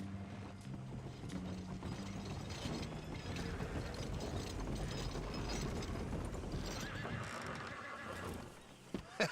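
A horse in the Red Dead Redemption 2 video game whinnies loudly over a continuous layer of clattering hoof clip-clop and mechanical rattling, with a brief fresh neigh rising near the end.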